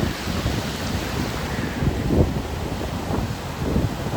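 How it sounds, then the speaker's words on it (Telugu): Rough sea waves crash onto the shore where net fishing is underway, a continuous low roar with heavier surges swelling every second or so, mixed with wind noise. "కెరటాలు కొట్టుకుంటూ వచ్చేస్తుంది"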